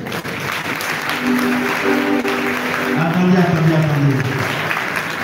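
A hall audience at a cultural competition final applauds a parish church choir, steady clapping with a voice speaking over it and tonal sounds drifting through.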